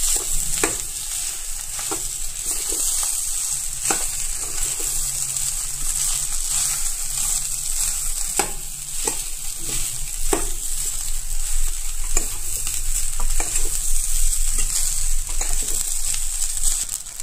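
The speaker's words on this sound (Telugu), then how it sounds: "రైస్ యాడ్ చేసేసుకొని కింద ఉన్నదంతా దీంతో మిక్స్ చేసేసుకోవాలి" Cooked rice is stir-fried and mixed in a pan for egg fried rice, with a continuous sizzle and regular sharp spatula scrapes and taps against the pan, close and alone.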